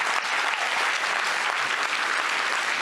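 An audience at a festival panel discussion on Russian society and the war in Ukraine claps, a thick, even wash of applause from a sizable crowd, continuous and fairly loud across the short stretch with no voices.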